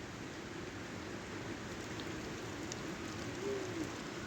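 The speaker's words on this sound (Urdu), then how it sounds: "یہ بارش لگی ہوئی ہے، یہ آپ دیکھ سکتے ہیں۔" Steady rain falls in Azad Kashmir, a dense even hiss that lasts throughout, with a faint bird coo near the end and no talk.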